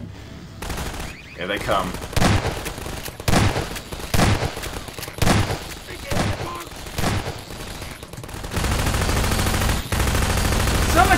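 Turret gunfire in Half-Life 2 Episode Two, loud repeated bursts of rapid automatic fire separated by short gaps, with a brief spoken line between the volleys.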